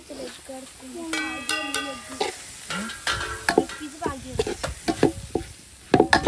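Chilli, coriander and turmeric powders being stirred in a frying pan, a scraping spoon with light sizzling close by, and a voice speaking over it throughout.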